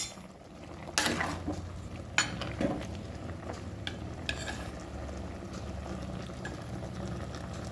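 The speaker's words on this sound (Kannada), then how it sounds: "ತೊಂಡೆಕಾಯಿಯು ಬೇಯ್ತಾ ಇದೆ." Ivy gourd simmering with chili and coconut in a pan, giving a steady low sizzle and bubbling with a few sharper scrapes and knocks of a spoon stirring, alone with no talk.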